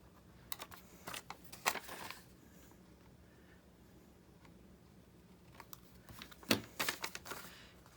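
Scissors cut printed vellum paper in a few quiet, close snips and crisp rustles, separated by a long near-silent pause in the middle.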